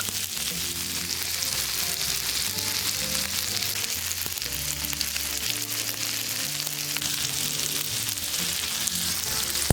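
Bacon and a ground beef burger frying on a hot surface, a dense, continuous sizzle and crackle under melodic background music.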